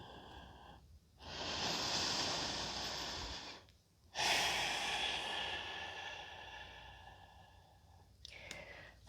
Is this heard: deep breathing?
yes